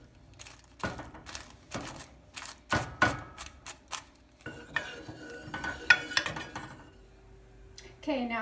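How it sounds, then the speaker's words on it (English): A utensil stirs RSO into coconut oil in a pot on low heat, giving repeated sharp scraping clinks against the metal in an irregular rhythm, close and fairly loud. "You want to just put it on low and then just stir it really well so it doesn't get too hot."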